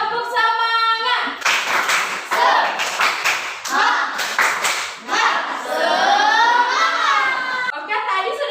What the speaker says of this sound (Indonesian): Kalau sudah semangat, kita tepuk semangat